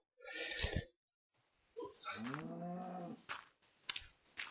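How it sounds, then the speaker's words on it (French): Cattle lowing in a roleplay video game: one short bovine call, a pause, then a longer, drawn-out moo with clear harmonics, followed by a few sharp thuds, fairly close and with no talk over it. "J'ai réussi à mettre les deux vaches ensemble."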